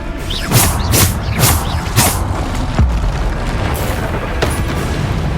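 Repeated heavy booms and whooshing blasts from the Bombarda explosion spell in the video game Hogwarts Legacy, several loud impacts in quick succession over a dense, continuous rumble of game sound.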